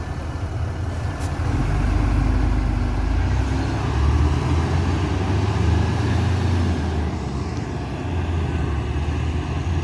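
A truck on an Indonesian road heard from inside a moving bus, a loud low rumble that swells and holds for several seconds, then eases off as it passes, with no talking.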